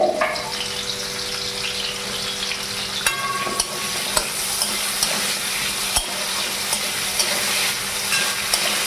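Potatoes coated in turmeric and salt fry in a pan with a steady, dense sizzle and a few sharp clicks and clanks of stirring, with no voices.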